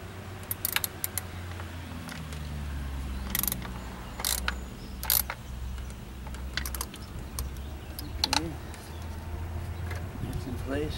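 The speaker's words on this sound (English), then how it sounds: "I'm going to tighten the nut on the stud here that holds it in." A wrench tightens the nut on the steering reservoir stud of a 2005 Dodge Grand Caravan SXT, making quick ratcheting clicks in short bursts. An engine-bay hum runs underneath and a person talks between the clicks.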